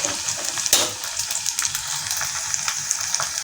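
Medan anchovies fry in hot oil in a home kitchen, giving a bright, crackling sizzle with scattered sharp pops and one louder burst near the start. No one speaks over it.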